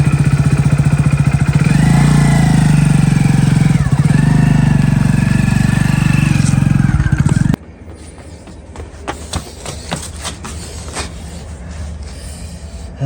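A motorcycle engine runs loud and close with a steady rough throb for about seven seconds, then cuts off abruptly, leaving quieter background clatter and faint noises.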